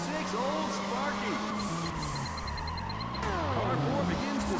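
Tires squeal and skid through a sideways power slide in the racing video game Juiced 2, with engines droning and gliding pitch sweeps under constant game audio, several slides overlapping in a dense, continuous mix.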